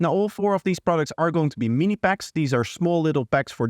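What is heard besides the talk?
None of the usual background noises is heard.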